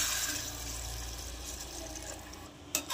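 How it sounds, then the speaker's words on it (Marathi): Water rushes and splashes continuously into a pot of sautéed rice and lentils, then tapers off, ending with a couple of brief knocks. "यामध्ये आपण पाणी टाकूता."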